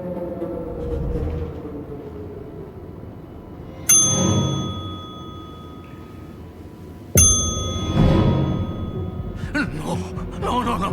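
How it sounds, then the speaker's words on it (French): Two sharp doorbell rings a few seconds apart, each with a bright lingering ring-out, over a background of murmuring voices and room noise. "c'est 1 ou 2 coups de sonnette"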